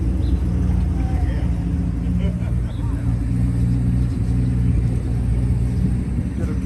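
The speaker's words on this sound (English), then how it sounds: "Check out the engine on this Chevrolet" A Chevrolet car engine rumbles steadily and loudly at close range at a car show, with a deep continuous idle throughout.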